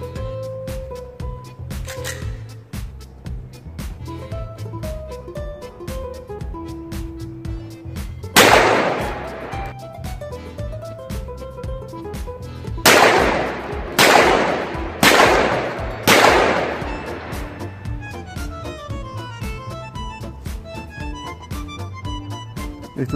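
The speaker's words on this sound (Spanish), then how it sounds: "Vamos a hacer la prueba de disparo de este modelo." A Zoraki Stalker 917 traumatic pistol firing 9 mm rounds: about five sharp, loud reports, one alone and then four in quick succession, amid clicking handling noises.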